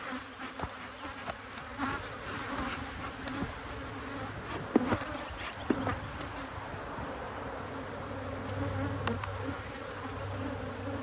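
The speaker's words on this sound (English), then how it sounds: "Queenless hive, a lot of bees in there," Honey bees buzzing steadily around a queenless hive, a dense continuous drone close by with individual bees passing near, no voices.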